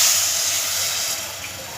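A steady rushing splash of tamarind water being poured into a pan, broad and continuous, fading slightly toward the end.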